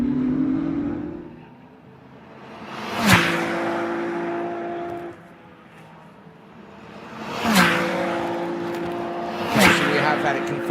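A Ferrari Challenge race car at Sonoma sweeps through the final corner during qualifying, its engine note rising and falling with sharp passing peaks, as several cars roar by at intervals while a commentator talks throughout.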